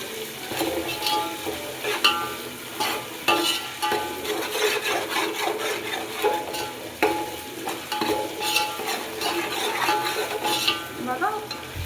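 Chicken biryani ingredients frying in a pan, a soft sizzle under frequent close scraping and stirring strokes with occasional light clinks of the utensil against the pan, no talking.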